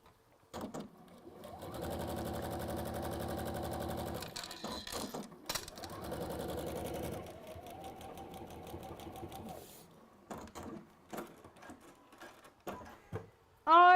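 A sewing machine stitches fabric in two long steady runs separated by a pause, with clicks and handling noises around them and a short bright clink at the very end.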